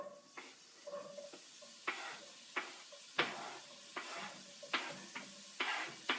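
Carrots and celery hit a hot soup pot for a sausage and leek soup, giving bursts of sizzle with irregular stirring and scraping strokes, close and moderately loud, with no talking.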